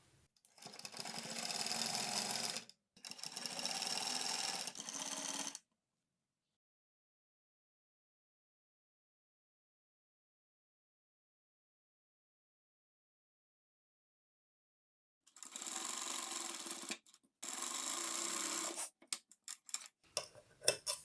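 A sewing machine stitches around a shirt neckline. Two rapid mechanical bursts are followed by a long silence, then two more close runs of stitching and a few scattered clicks, all near and fairly quiet.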